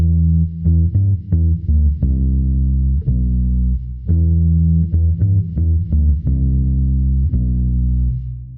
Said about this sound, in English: that low pitch sound, is actually a guitar pitched down